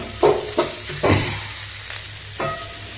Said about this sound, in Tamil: கிரேவிக்கு ஆனியன் நல்லா வதங்கிட்டு இருக்கு